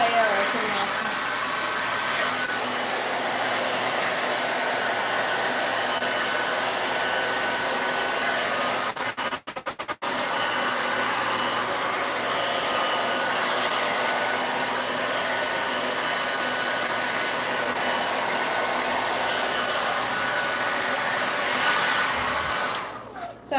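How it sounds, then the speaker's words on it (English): A hair dryer with a diffuser blows on wet hair, a loud, steady whooshing drone close by that lasts throughout, dipping briefly midway before resuming. "So I'm just diffusing my hair slightly so that it is a little bit more on the dry side because right now it's very wet"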